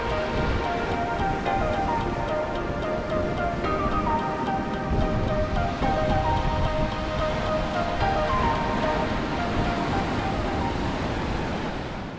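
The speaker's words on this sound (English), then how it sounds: "the soothing sound of the ocean in the background" Continuous roar of ocean surf washing onto Punta Borinquen Beach in Aguadilla, Puerto Rico, a broad, steady rush of water with faint background tones and no talking.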